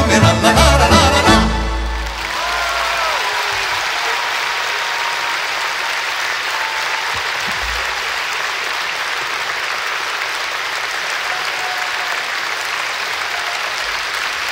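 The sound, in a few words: concert audience applause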